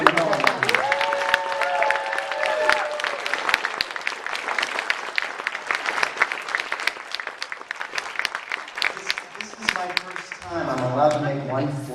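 Applause breaks out at an awards weekend reception for nominees, with sustained clapping from the crowd throughout. A voice speaks over it at the start and people talk again near the end.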